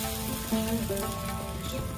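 Milk pitha batter poured into an oiled pan sizzles with a steady, close crackle and hiss that runs without a break.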